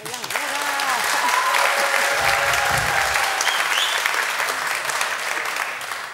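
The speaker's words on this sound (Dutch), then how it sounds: "Applaus." Studio audience applauding at a Dordrecht local election debate as two party list leaders take their seats, a dense steady wash of clapping that fills the room for several seconds before tapering off.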